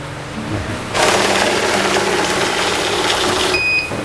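A bill counter machine whirs loudly as it riffles through banknotes for about three seconds, then gives a sharp electronic beep as it stops on a fake note.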